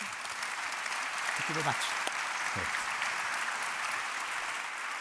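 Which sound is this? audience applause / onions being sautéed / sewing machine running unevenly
audience applause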